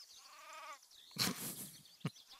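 Sheep bleating in the Craft the World game, a wavering bleat at the start followed by two sharper rustling thumps, faint overall.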